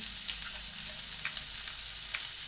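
Onions salted and frying in a pan give off a steady, close hiss of sizzling oil with a few faint ticks and spatter pops, uniform in level and free of any talk.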